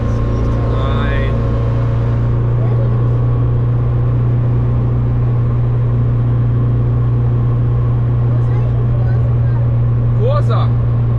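A Simca Rallye 2 engine drones steadily while the car drives, a loud, constant low rumble that holds its pitch throughout.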